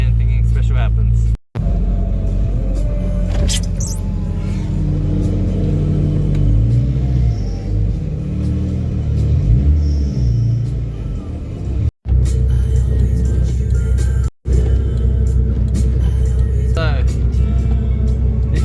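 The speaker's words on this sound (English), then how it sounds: "So we're gonna go for a drive right now" Car on a Friday night cruise, with a steady engine rumble and road noise from inside the cabin, a few brief revs, and people talking over it.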